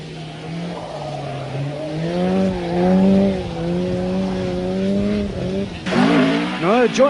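A rally car lapping the Nuts Corner circuit at speed, engine droning and rising through gears, then sharp squealing tires near the end as it slides through a corner, loud and close.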